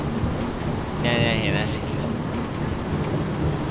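Steady rain hisses in the video game Minecraft, a dense, even wash with a low rumbling undertone. Players talk over it.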